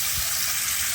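Buffalo meat tipped into a pan of fried spice paste sizzles and hisses steadily, a close, continuous frying noise with no talk over it.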